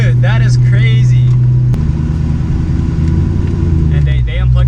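A 2003 Ford Mustang Cobra Terminator idles slightly unevenly close by after a new transmission and a disconnected battery, a loud steady low rumble that drops in pitch partway through, with voices talking over it.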